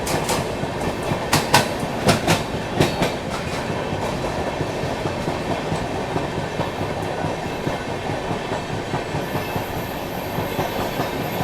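Poorvottar Sampark Kranti express running at speed and overtaking another train, a steady rumble with rhythmic clickety-clack of wheels and a few sharp rail knocks early on, heard close from inside the train.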